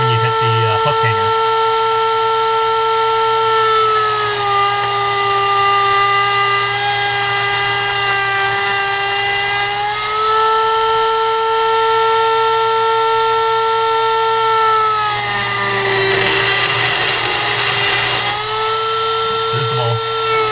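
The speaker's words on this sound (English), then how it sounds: "it'll get tricky when you cut down in there where that metal ball is" A power tool with a high, steady whine and a few pitch shifts cuts into a custom crankbait fishing lure near its internal metal ball, running loud and close throughout.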